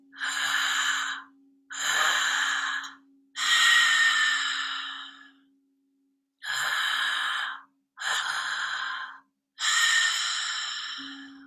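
Loud, forceful breathwork breaths through the mouth, six rushing inhales and exhales in a steady rhythm with short pauses, over a faint constant hum.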